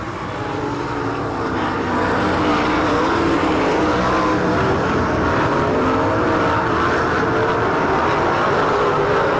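Sprint cars from an All Stars versus NCRA Eastern Shootout race on a dirt track at Saint Clairsville, Ohio, roaring steadily and loudly as a pack, engines blending into a continuous dense drone without a break.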